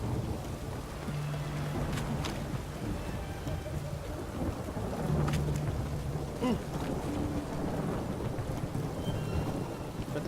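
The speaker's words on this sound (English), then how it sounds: "can it stop raining?" Steady rain hisses all around while low thunder rumbles in the background, with a few sharper crackles standing out, in the video game The Witcher 3: Wild Hunt.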